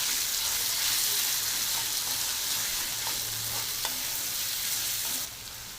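Ground coconut and garlic paste being stirred into a frying eggplant bhaji in a pan, a steady loud sizzle with soft scraping strokes throughout, easing off near the end.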